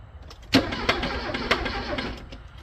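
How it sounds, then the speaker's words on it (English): An abandoned Porsche's engine cranks with the key, giving a few sharp starter bursts and rough turning-over pulses at close range, with no one talking over it. "See if it turns over with the key."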